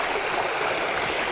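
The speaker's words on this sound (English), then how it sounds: "Right by the river." A river stream flows steadily beside an outdoor cooking spot in Jamaica, a continuous broadband rush of moving water filling the short moment with no talk.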